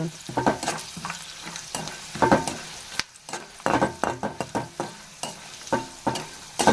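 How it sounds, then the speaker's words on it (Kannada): Peanuts and cashews fry and sizzle in a pan under a steady hiss, with repeated sharp scrapes and clacks of a spoon stirring them, close and rhythmic with short pauses, and no voices. "ಸ್ವಲ್ಪ ಶೇಂಗಾ ಹಾಕೊಂಡ್ರಿ ಆಮೇಲೆ ಗೋಡಂಬಿ ಹಾಕ್ಕೊಳನ್ರಿ ಸ್ವಲ್ಪ ಫ್ರೈ ರೀ"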